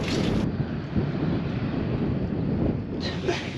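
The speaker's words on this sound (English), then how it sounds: "We were awakened by the sound of a jet engine." Loud, steady roar of a jet airplane engine at takeoff from an airport, broad and rumbling, continuous throughout with a windy, distant-to-near quality and no distinct voices.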